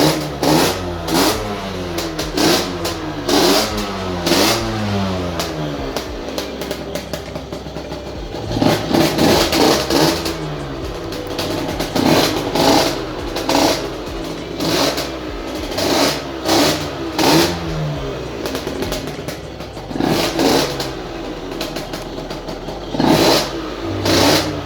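Small Derbi moped engine revving hard through a top speed run, a busy buzzing drone that rises and falls in repeated surges for the whole stretch, close and fairly loud with no talk.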